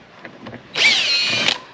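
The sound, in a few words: power drill removing screws from RV heat pump shroud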